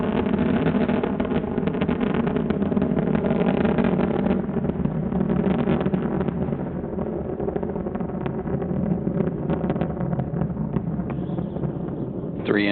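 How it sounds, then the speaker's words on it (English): Space Shuttle Endeavour's three main engines roar steadily during ascent through the lower atmosphere, a loud, continuous, broadband rumble that holds throughout. "Three engines now throttling down as Endeavour passes through the area of maximum dynamic pressure on the vehicle in the lower atmosphere."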